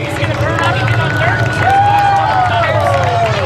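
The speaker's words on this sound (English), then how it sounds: "Let's give a nice round of applause for Glenn Ritchie" Crowd applause for a race winner at a 250 speedway, a steady wash of clapping and murmur that runs beneath a loud announcer's voice throughout.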